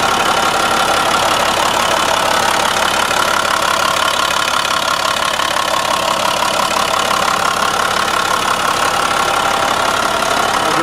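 A 2004 International 7500 truck engine idles steadily and loudly up close, with a dense, constant mechanical drone and faint knocking texture throughout and no voices.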